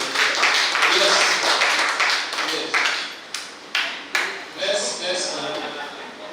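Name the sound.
audience applause for a workshop presenter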